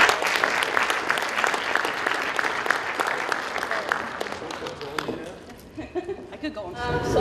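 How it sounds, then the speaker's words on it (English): A crowd of girls at a gathering claps loudly and continuously, the sound thinning and trailing off near the end, with scattered voices underneath. "let's give everyone a round of applause"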